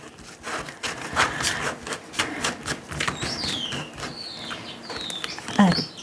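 Tarot cards are cut and handled on a table, with quick papery flicks, rubbing and soft taps scattered irregularly, close and fairly quiet. A few faint chirps sit in the background.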